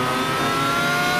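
In the mobile driving game Car For Sale Simulator 2023, a car engine strains in a drag race, giving a loud, sustained, high-revving drone at speed with no break.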